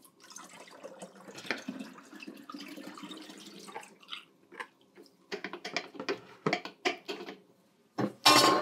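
Copper sulfate solution poured back from a vessel during backyard pottery pit firing in winter, with trickling liquid, light clinks and knocks of containers, and a louder splash and clatter near the end.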